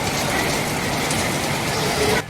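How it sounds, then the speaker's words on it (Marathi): Heavy rain pours down in a steady, dense hiss that fills the scene without a break and cuts off abruptly at the end. "सकाळपासून असा पाऊस आहे"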